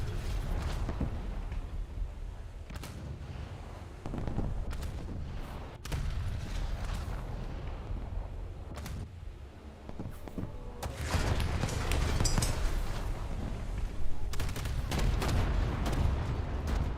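Video game gunfire: booming shots and blasts, some heavy like artillery, break out at irregular moments over a rumbling, busy battle soundscape, with no talk.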